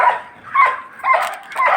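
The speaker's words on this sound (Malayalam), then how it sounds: "പട്ടികളെല്ലാം കൂടെ എന്തൊരു ബഹളം" Several dogs barking in short repeated bursts, roughly every half second, fairly close and loud, mixed with yelps, with no talking over them.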